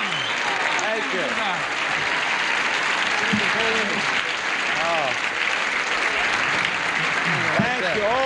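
Studio audience applause on a 1970s television game show, a loud continuous roar of clapping throughout with a voice talking over it.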